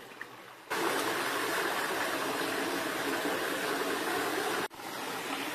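Water falls in a hill stream as a steady, full broadband rush that starts suddenly and continues evenly, with one brief break near the end.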